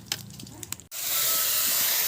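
Chicken meat dropped into hot oil already fried with whole cumin and bay leaves bursts into a loud, steady hiss and sizzle after a short, quieter start with a faint voice.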